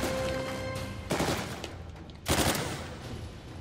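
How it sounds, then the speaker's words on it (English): Gunfire from the video game Uncharted 4 crackles in two sharp bursts of rapid shots over a low background bed, with no speech. "Quit shooting at me."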